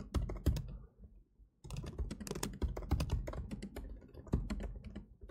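Fast, close keystrokes clatter on a computer keyboard, bursts of typing separated by a brief pause, fairly quiet and without speech.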